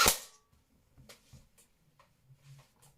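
A BB AR-style rifle fires at a red Lucas 8 can, giving one sharp, loud crack at the start, followed by faint low rustles and soft knocks.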